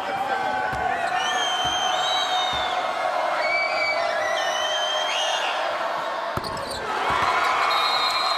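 A high school basketball crowd in the Norcross versus Hillgrove game cheers steadily for the Hillgrove Hawks, a broad sustained roar with whoops, occasional ball bounces and a commentator talking over it.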